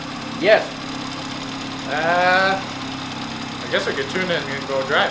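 A BMW F30 340i with a B58 turbocharged engine on a cold start gives a brief rising turbo whine over a steady idle, with a short burst of noise at the start and someone talking near the end.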